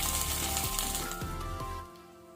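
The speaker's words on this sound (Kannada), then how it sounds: "ಈಗ ನಾವು ಮೇಲೆಯಿಂದ ಒಗ್ಗರಣೆ ಹಾಕೋಣ." Hot oil tempering with mustard seeds, red chili and curry leaves is poured over a pot of mixed vegetable sambar, bursting into a loud sizzle with a few crackles before quickly fading away.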